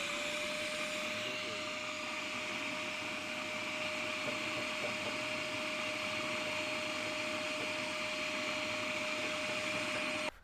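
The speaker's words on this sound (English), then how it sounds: "Next step, I'm gonna vacuum the Firepot." An ash vacuum cleaner drones steadily at close range while cleaning the firepot of a Pit Boss 1150 pellet smoker, a continuous whine with a high tone before cutting off at the end.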